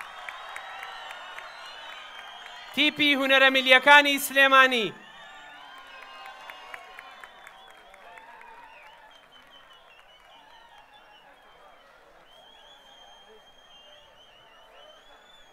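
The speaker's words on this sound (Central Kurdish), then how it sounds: "کوا چەپڵەکانتان" Audience at an international festival of diverse cultures cheers and applauds for a national folk arts troupe, a loud burst of clapping and shouting lasting about two seconds, then a long quieter stretch with faint crowd murmur under a presenter's speech.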